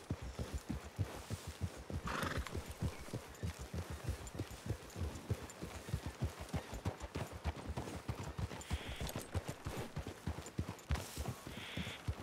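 Horses gallop in Red Dead Redemption 2 with rapid, rhythmic hoofbeats pounding close by, a whinny breaking through near the start and again toward the end.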